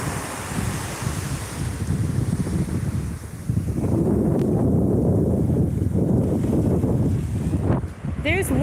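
Strong wind buffets the microphone on a beach in Japan, with a constant roaring rush and surf washing underneath. A brief mechanical sweep sounds near the end.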